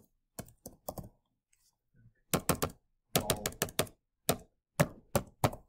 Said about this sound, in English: I am having issues typing today.